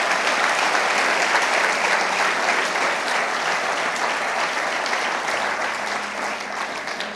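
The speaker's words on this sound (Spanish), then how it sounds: "si quieres aplaudir al Señor, lo haces" A church congregation applauds during a sermon, a sustained, loud wash of clapping filling the space for several seconds without voices rising above it.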